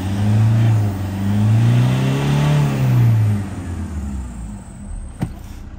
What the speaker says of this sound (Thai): อัตราการเร่งสวยงามมากเครื่องดีด้วย